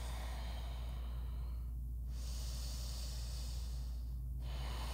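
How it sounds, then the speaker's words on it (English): Long, slow ujjayi breaths drawn through the nose during a vinyasa yoga class, two soft hissing inhales and exhales with pauses over a steady low hum. "Find a long breath in and out through your nose, ujjayi breathing."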